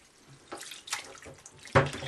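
Tap water running while pork fat is rinsed, a close, soft splashing and gurgling with several louder splashes as the slab is moved under the stream.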